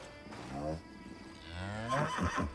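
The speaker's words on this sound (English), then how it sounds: "Oh, it's a cow" A cow moos twice in the video game Eternal Strands, a long low call followed by a second rising, more strained moo, fairly close and clear with no talk over it.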